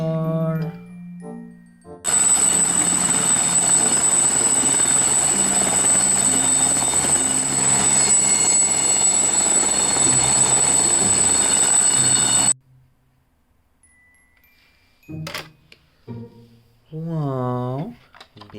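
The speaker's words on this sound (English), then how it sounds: "helicopter" A helicopter's loud, steady rotor and engine roar runs for about ten seconds with a high whine on top, then cuts off abruptly; a voice talks before and after.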